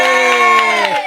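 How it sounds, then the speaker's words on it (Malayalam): A crowd cheers loudly at an eating challenge game prize moment, a sustained shout with clear high voices, probably children, that holds steady and then tails off at the end. "ഇത് ഒരു വലിയ കൈയടി"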